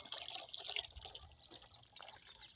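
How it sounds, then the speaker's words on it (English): Soft, steady trickle of water from a small backyard garden waterfall, splashing and dripping close by, with no voices. "Here's my new waterfall."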